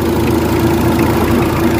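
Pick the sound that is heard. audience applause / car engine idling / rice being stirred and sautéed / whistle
car engine idling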